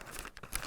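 Newspaper crinkles and crackles close by as hands press the sides of a paper bag, in brief dry bursts of crumpling.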